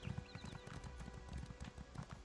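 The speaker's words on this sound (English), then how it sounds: "I'm just running around on my horse" Horse hooves gallop in The Elder Scrolls Online, a fast, steady run of hoof beats with no pauses and faint game ambience mixed in, while a voice talks quietly in the background.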